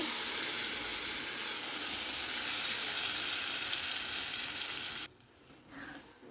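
Boiled tomato dal poured into a sizzling tempering for hotel-style dal fry: a loud, steady sizzle for about five seconds that drops suddenly to a quieter, softer bubbling.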